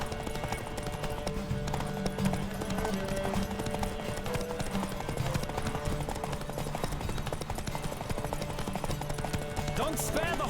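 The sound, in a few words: horses galloping in a race, from video game The Witcher 3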